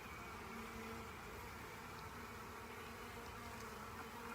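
Honey bees buzzing around a nucleus colony hive with a new feeder, a steady dense drone of many wings filling the air, faint and continuous with no talk.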